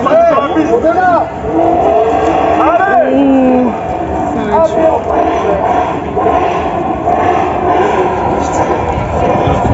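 A Formula 4 race car passes at a circuit, its engine rising and falling in pitch as it howls by, loud and close, with people talking excitedly over it.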